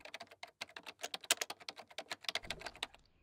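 Fingers type steadily on a computer keyboard, a close, dense patter of crisp key clicks in quick irregular bursts that stops near the end, with no talking.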